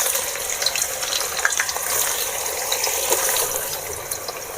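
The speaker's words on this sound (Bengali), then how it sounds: "পেঁয়াজ লাল করে ভেজে নিয়েছি।" Onions fry in oil for a mutton curry, giving a steady sizzle with scattered crackles and pops at moderate loudness, close by and with no talking.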